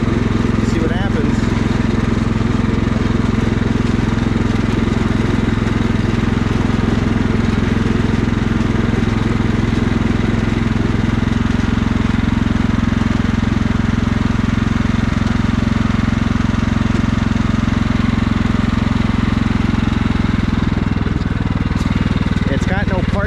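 A Craftsman riding lawn mower engine drones loudly and continuously as the mower drives through soupy mud, with a steady low hum throughout and a voice talking over it.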